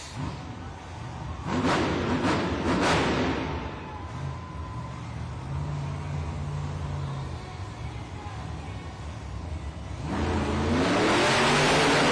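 Sparkle Smash monster truck at a Monster Jam arena event in Fresno, its engine revving in loud bursts while spinning donuts, with crowd noise and an announcer heard at times over the roar.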